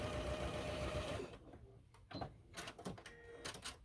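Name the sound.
sewing machine stitching a quilt block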